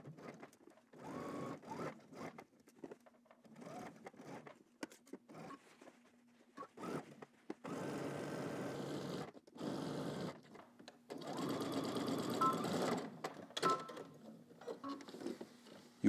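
A sewing machine stitches a shirt seam on a Simplicity pattern garment, running in several bursts of steady whirring with short pauses in between, close and fairly quiet.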